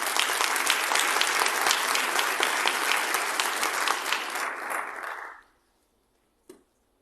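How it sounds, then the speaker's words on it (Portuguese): Audience at a regional health seminar applauding Dr. Patrícia, a loud steady patter of clapping lasting about five seconds before fading out, followed by silence and one faint knock. "Os aplausos, então, à doutora Patrícia."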